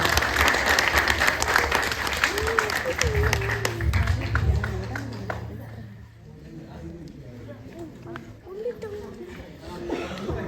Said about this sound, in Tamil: பெரிய கைத்தட்டலோட நாங்கள் வரவேற்போம்